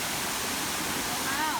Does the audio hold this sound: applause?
no